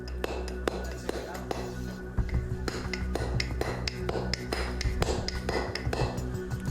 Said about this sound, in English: Next, he tries a chisel made of bronze, a material used by the ancient Egyptians.